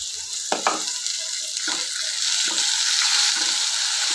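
Tomato hits softened onions in a hot pan for a small-lentil soup, giving a steady broadband sizzle with a few spatula stirs and scrapes, close and fairly loud, with no voices.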